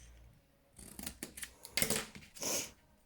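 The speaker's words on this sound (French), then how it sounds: "Voilà, j'ai coupé." Scissors snip through paper for a butterfly pop-up card, a few crisp close cuts in quick succession, each closing with a short sharp rasp, heard alone in a quiet room.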